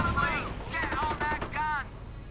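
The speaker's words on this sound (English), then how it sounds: "the dreaded Staghound, which has a bit of a bug with a machine gun, which it actually pretty much fire constantly" Staghound armored car machine gun in a video game firing in rapid bursts, sounding close and fairly loud, with a voice-like tonal sound overlapping the shots.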